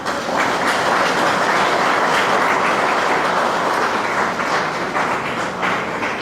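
Sustained applause from an audience at a World Tourism Day 2024 celebration with a minister, a dense, steady wash of clapping from many hands that holds loud and even throughout.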